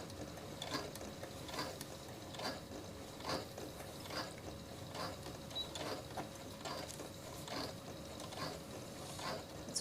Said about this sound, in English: You're sewing in slow motion.